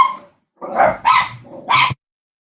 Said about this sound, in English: Can you hear my dogs bark?